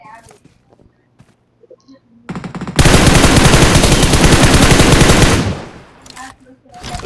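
Rapid automatic gunfire erupts in an online shooter match, a loud sustained burst lasting a few seconds after scattered clicks and footsteps, then trailing off into quieter single shots.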